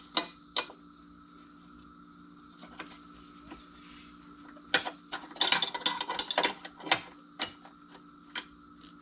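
A wrench tightens a 1/2 inch plumbing fitting with a string of close, light ratcheting clicks, sparse at first and then quick bursts of clicking and clatter in the middle, with no talking.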